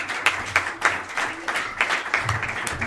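An audience claps for a performer at a music showcase, with a few distinct sharp claps standing out over lighter scattered clapping, moderately quiet and uneven.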